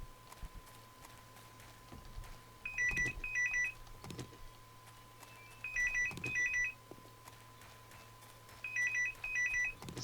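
A telephone rings in three repeated double-burst electronic trills, evenly spaced and clear over a quiet low hum, with no talking.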